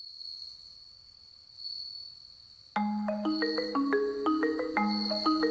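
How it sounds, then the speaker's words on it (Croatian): A suzumushi bell cricket in rural Japan in autumn gives a thin, high, ringing trill that runs continuously. About halfway through, a melodic tune of plucked notes joins in and plays over it. "Pjevajući cvrčak, suzumushi."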